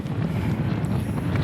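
Strong wind buffets the microphone at a Mahadev temple and garden in Hathindra, a steady low rumbling roar that stays loud and unbroken throughout.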